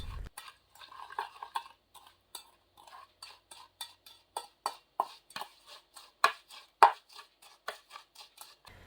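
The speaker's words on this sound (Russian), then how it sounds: "В оставшийся уголь добавляю чуть-чуть теплой воды. Теперь хорошо нужно перемешать," A spoon scrapes and clinks in a bowl as charcoal is stirred with a little warm water into a paste, giving a steady run of close, sharp ticks and taps with no voices.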